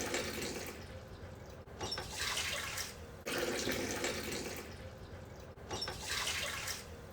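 Water pours and splashes in repeated bursts while rice is prepared in a rice cooker, a continuous drippy rush rising and falling in three waves, close and fairly quiet.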